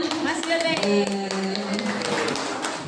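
Hands clapping in a school gathering, a few quick claps mixed with a sustained tonal ringing and background voices, moderately faint and brief.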